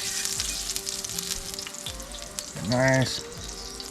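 A T-bone steak fries in bacon fat on a DIY skottle griddle outdoors, giving a continuous close sizzle and crackle, with a single brief spoken word.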